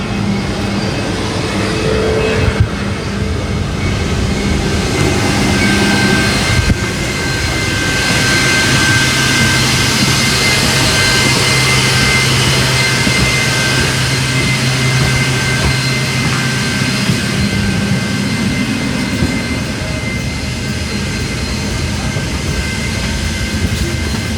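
A 28-year-old TezJet Airlines MD-83 hums steadily as passengers board from the rear, its jet engines giving a loud, continuous whine and rumble close by, with no talking.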